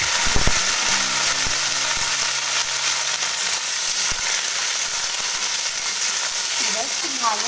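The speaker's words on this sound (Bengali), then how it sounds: "এবার খুব ভালো করে ভেন্ডিগুলো লাল লাল করে ভেজে নিতে হবে" Okra frying in oil with black cumin in a pan, a loud steady sizzle throughout, a few knocks and clinks of a utensil early on, with a voice speaking over it.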